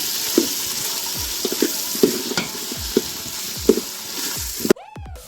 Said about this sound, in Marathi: पहिला फ्राय करून घ्यायचे आपल्याला ते चिकनची फोड व्यवस्थित फ्राय करून घ्यायची